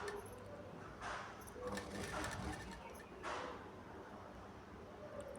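A sewing machine stitches a blouse neck piece in steady mechanical bursts, each lasting under a second, with short pauses between the runs of stitching. It sounds moderately close but low in level.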